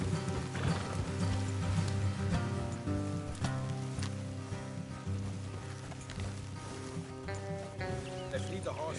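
Horse hooves clop in a steady rhythm under rain and game sounds in Red Dead Redemption 2, with people talking over them.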